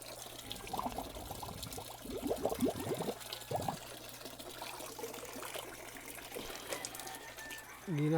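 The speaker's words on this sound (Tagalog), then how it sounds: "ali mag water change ko akong i-drain kani akong gamit siphon hose na ako nga dako." Aquarium water running out through a large siphon hose while draining a goldfish tank for a water change, a steady trickling pour under background hum with a few brief vocal sounds over it.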